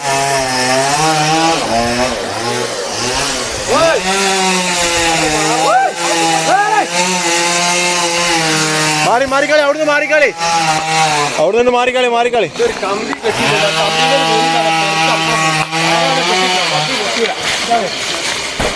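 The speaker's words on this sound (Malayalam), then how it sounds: "ഊതുമരം മുറിച്ചോണ്ടിരിക്കാണ്. 2ാമത്തെ മുറിച്ചോണ്ടിരിക്കാണ് കേട്ടോ." A chainsaw cuts down an oud (agarwood) tree on a Kerala plantation, its engine droning loud and continuous with pitch shifts as it bites, while people shout nearby.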